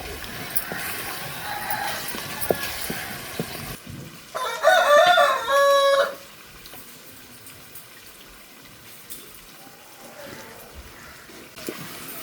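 A country rooster gives one loud, clear crow lasting about two seconds, rising out of low, rustling outdoor background noise and then falling away.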